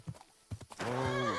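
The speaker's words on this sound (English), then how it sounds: "Horse? What's it doing here in the woods?" A horse in the video game Kingdom Come: Deliverance II whinnies loudly in the woods, a long wavering neigh rising after a few soft thuds of hooves.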